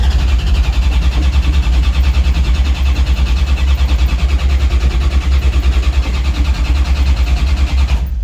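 An old vehicle's engine, started by touching wires together with a screwdriver, churns steadily and loudly for about eight seconds without catching, then cuts off abruptly.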